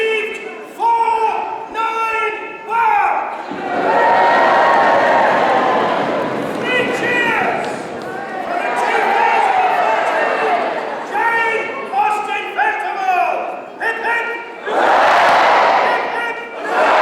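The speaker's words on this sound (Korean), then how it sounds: "환호하는 영국인들." A large British crowd gathered in traditional 1800s-style costume cheers and shouts in loud, rising surges, with many voices blending into swelling roars and brief lulls between bursts.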